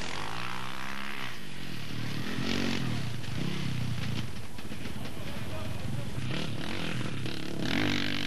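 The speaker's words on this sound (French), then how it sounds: "Derrière, les autres motards ne pourront qu'approcher Jean-Louis Slovaque." Motorcycles racing in the 1990 Transcapnord cross-Channel rally speed trials drone and rev continuously, engines whining at varying pitch under an overlaid commentary voice.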